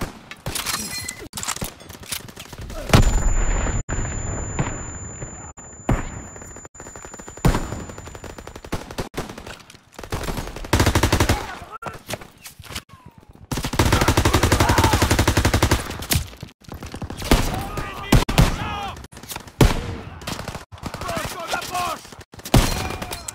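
Machine gun fire rattles in bursts during a Normandy landing battle in Call of Duty WW2, loud rapid volleys with cracks and impacts, mixed with shouted soldier voices between the salvos.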